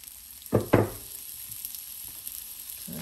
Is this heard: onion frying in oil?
yes